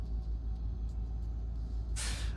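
A MAN truck passes at steady speed, its low engine drone and rumble running throughout, ending in a sudden sharp hiss of released air near the close.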